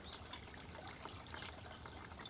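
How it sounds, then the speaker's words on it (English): Water from garden fountains trickles and splashes steadily in a quiet garden, a soft, continuous burble with no voices over it. "All you hear is the water from the fountains that are going"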